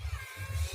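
Short meow from a kitten, a couple of quick soft cries in close succession, fairly quiet and alone.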